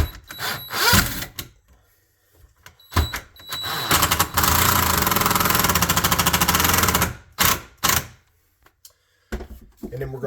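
A power driver drives a screw through a door shim in one sustained, loud, buzzing whir of about three seconds, with short bursts before and after and someone talking in the gaps.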